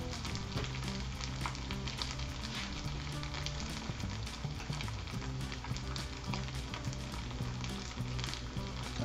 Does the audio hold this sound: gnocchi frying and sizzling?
yes